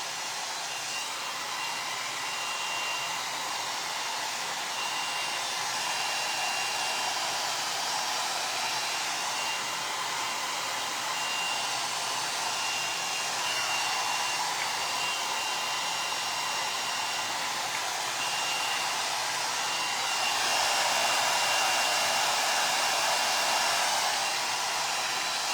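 A hair dryer runs continuously while blow-drying short hair into a 90s blowout, a loud, close, steady airy roar that shifts slightly in pitch and intensity as it moves.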